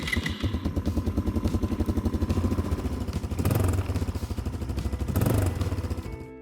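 A Motoland Wildtrack ATV quad engine turns over on its electric starter and catches, running with a loud, close, rapid thumping beat that swells twice in short revs before settling.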